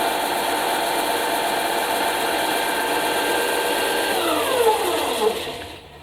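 A Ryobi belt and disc sander runs loud and close with a steady, rough motor roar, then its pitch drops as it spins down near the end.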